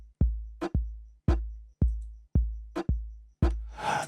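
A percussion hit from an Amapiano sample pack sounds again and again, each strike punchy with a deep booming tail and a bright click on top, about seven in a loose rhythm, loud and dry with no talk.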